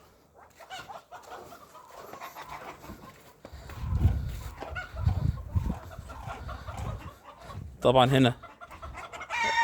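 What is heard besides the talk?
chickens clucking on a farm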